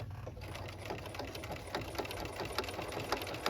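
A sewing machine runs steadily while stitching a quilt appliqué, its close, continuous mechanical whir with rapid needle clatter and a few louder ticks throughout, with no voices.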